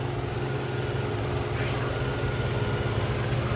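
A Hyundai Tucson's 2.5 liter Smart Stream four-cylinder engine idles with a steady, low, even drone that stays continuous and moderately quiet throughout, heard from the open engine bay with no talking.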